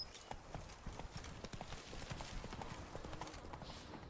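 Roach, a horse in The Witcher 3, trotting with a steady, fast clip-clop of hooves, close and continuous over ambient game sound, with no talking.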